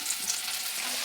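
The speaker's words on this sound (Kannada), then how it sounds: "ಇವಾಗ ಇದೇನು ಮನೆ ಗೋಬಿ ಮಂಚೂರಿ ಫ್ರೈ ಮಾಡ್ಕೊಂಡಿರೋದಾಗೈತೆ ಎಣ್ಣೆಯಲ್ಲಿ." Gobi manchurian frying in hot oil at home gives a brief, steady crackling sizzle, fairly quiet and close, with no voices over it.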